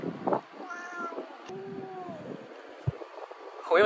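Two cats meow, several drawn-out, rising and falling calls spread across the clip, fairly close and moderately loud with brief rustles and handling noises between them.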